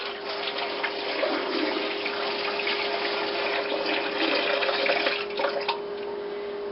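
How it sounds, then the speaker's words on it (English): Water pours steadily from a tap into a pressure canner holding jars, a continuous close rushing splash with a faint hum beneath it. "All of our jars are in our canner, and we're going to put water in."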